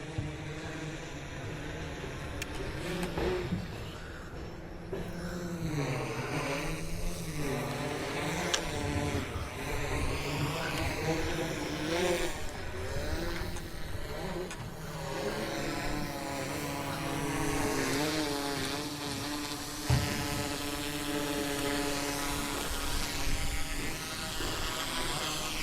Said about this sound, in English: I can barely see the drone up there